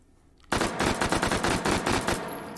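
H&K MP5K with stock firing three-round bursts in the H3VR virtual reality game, a sharp sudden onset followed by a rapid string of loud cracks in tight clusters, then a decaying tail.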